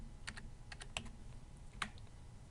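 Keystrokes on a computer keyboard come in short irregular clusters of soft clicks, close but quiet, over faint background hiss.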